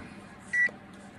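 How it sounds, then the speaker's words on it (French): A UNI-T UT210D clamp meter gives a single short, clear continuity-test beep, close and alone over faint background noise. "j'ai aussi la possibilité d'avoir le système sonore, d'avoir le bip de test"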